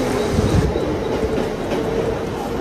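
A train rolls through a station during heavy rain, a loud continuous rumble of wheels and carriages with a faint rhythmic clatter, close by and without voices.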